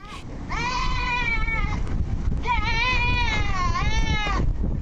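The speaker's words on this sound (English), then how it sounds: "It sounds like the screams of a baby, and it is a baby goat." A baby goat screams in two long, wavering, high-pitched cries, close and loud, over a noisy background with no talk.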